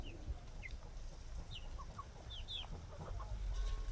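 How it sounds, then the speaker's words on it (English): A chicken clucking faintly now and then, with a few short chirpy calls over a low, steady background rumble, no speech. "Please let me know what breed this chicken is in the comments"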